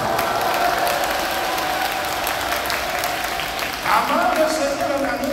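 Crowd applause at an outdoor patriotic forum and festival rally, a steady wash of clapping with some cheering, swelling briefly near the end while a voice speaks underneath.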